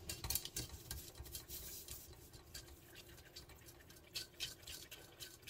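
Unflavored gelatin being stirred into a mixture in a pan for infused gummies, heard as soft, irregular scraping and light clinks of a utensil against the pan, fairly quiet and close, with no voices.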